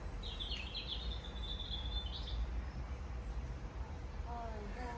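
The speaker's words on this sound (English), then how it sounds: "Can you hear the birds, the baby birds chirping in their box?" Baby birds chirp inside a nest box, a run of faint, high, rapid twittering calls against steady background hum, with a few lower chirps near the end.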